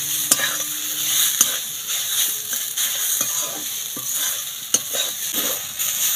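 Grated potato frying over onion masala in a pan, a soft continuous sizzle punctuated by sharp clicks and scrapes of a spatula stirring against the metal, close and steady with no talking.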